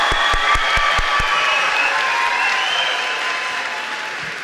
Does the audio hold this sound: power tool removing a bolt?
no